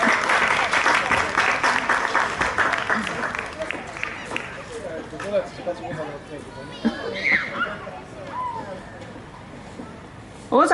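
Audience applause fills the closing concert of the Halinga XIV brass band festival, a dense patter of clapping that slowly thins and fades, while an announcer's voice speaks over and after it.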